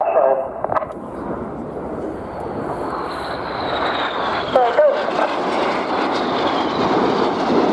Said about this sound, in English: Each aircraft now inverted 60 degrees nose down, coming back to the display line as they complete the manoeuvre called the boomerang.